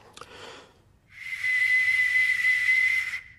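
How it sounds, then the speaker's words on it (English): An ancient bronze whistling arrowhead of the Xiongnu era flies through the air with a breathy rush followed by a sustained, piercing single-pitched whistle lasting about two seconds before cutting off. "although it's so old and it's made of bronze, it'll probably still whistle quite well."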